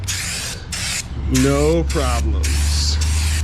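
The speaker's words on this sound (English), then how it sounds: "gonna continue on with the walls with the spray cans" Spray cans hiss in bursts as paint goes onto the interior walls of a converted bus, several short sprays alternating with a brief spoken remark in between, close and fairly loud.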